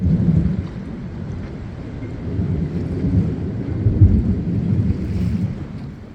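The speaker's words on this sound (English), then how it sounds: "Thunderstorm activity with this offshore blow." Thunder from an offshore thunderstorm rumbles low and heavy over steady rain and wind buffeting, building and swelling in waves without pause.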